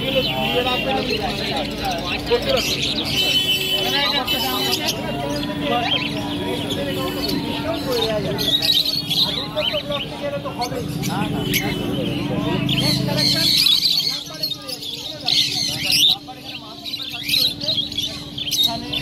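Many caged birds at the Serampore pet bird market give a dense, continuous wash of chirps and tweets throughout, mixed with steady crowd murmur and people talking nearby.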